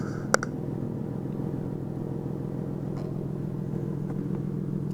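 A Nissan 370Z idling through an Invidia cat-back exhaust gives a steady, deep rumble that holds loud and even throughout, with a single sharp click near the start.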